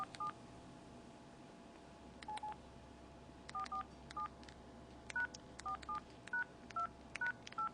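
Keypad presses on an LG enV3 phone for Verizon while composing a text message, each press giving a short electronic tone beep, in irregular bursts of single and double presses over a quiet background.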